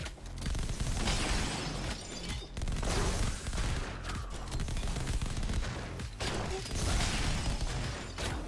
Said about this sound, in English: the explosion knocked the chains off